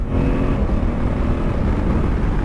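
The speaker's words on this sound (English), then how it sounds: "I've got a quick shifter on here, which is fantastic, really nice to use, especially with the sound." A 2023 Honda Africa Twin 1100 motorcycle with a quick shifter drones steadily and loud under wind rush, its engine running hard without a clear break between gears.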